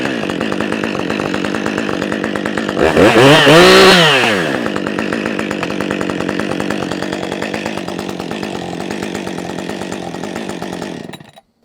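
A Jonsered 2253 chainsaw, a relative of the Husqvarna 550XP, roars loudly after being started, revs up sharply for about a second, then settles into a steady buzzing idle before shutting off abruptly.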